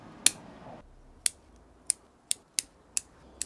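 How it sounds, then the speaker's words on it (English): Pruning shears snip branches on a honeysuckle (Lonicera) bonsai: seven sharp, close clicks spaced roughly half a second to a second apart, each crisp and alone over a quiet background. "And I think I can cut this branch"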